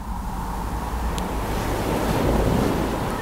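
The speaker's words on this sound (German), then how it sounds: "Auf der linken Seite rauscht das Wasser" Water surges and rushes steadily against a rocky coast along a hiking path, a continuous broad wash of surf with some wind rumble on the microphone, no voices.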